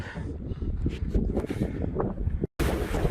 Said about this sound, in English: I'm in the desert and it's windy